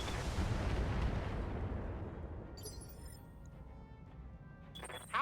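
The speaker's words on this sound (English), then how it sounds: "Firing a full salvo." A Battletech mech unleashing a full weapons salvo: a loud rumbling blast that slowly decays into a long fading roar, with brief faint clatters near the end.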